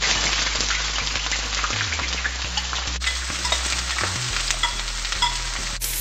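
Onion frying in a pan as the start of stew saltfish, a steady crackling sizzle with occasional stirring scrapes over a low constant hum, close up and without voices.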